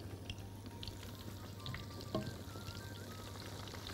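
Tomatoes and other food sizzle quietly in a hot pan as they are stirred and flipped, giving a soft, steady frying hiss with scattered scrapes and light clinks and no talking.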